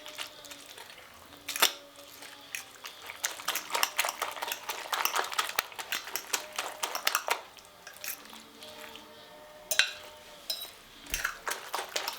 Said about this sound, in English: Then I whisk them together, or rather mix them together before adding in our potatoes.